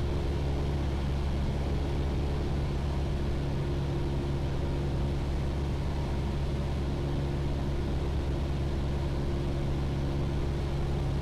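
A Piper Seneca's engines drone steadily from inside the cabin during traffic pattern work at Caldwell Airport, a constant loud hum with no talk.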